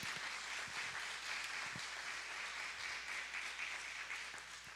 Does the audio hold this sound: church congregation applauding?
yes